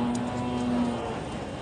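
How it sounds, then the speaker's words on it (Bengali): Cattle at Dhaper Hat, a traditional livestock market in Bogura, with a low, sustained moo-like drone over a busy, noisy market background. "এখানে আরো গরু ঘুরে আছে"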